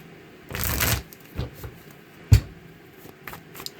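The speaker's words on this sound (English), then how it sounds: "Let's give this a shuffle." Tarot cards are shuffled in a few quick, close riffling bursts, one long sweep followed by shorter snaps and soft taps.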